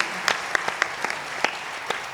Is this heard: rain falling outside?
no